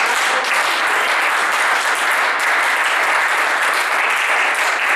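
A church congregation breaks into loud, sustained applause, dense and steady clapping close around the listener with no pause throughout.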